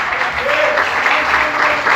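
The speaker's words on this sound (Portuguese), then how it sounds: "Você pode aplaudir Jesus bem forte?" Church congregation applauding loudly during a Portuguese-language sermon, dense sustained clapping with a voice briefly heard underneath.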